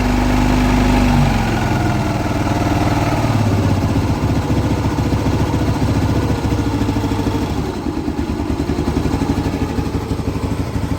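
A TVS Jupiter scooter engine idling after a piston, block and timing service, a steady loud close-up putter that holds the same even pulse, dips slightly, then carries on, with no talking.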